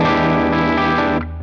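Fender Mustang 90 electric guitar ringing out a sustained chord through effects with distortion and chorus, loud and steady before dropping in level near the end.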